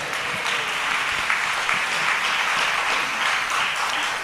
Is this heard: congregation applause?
yes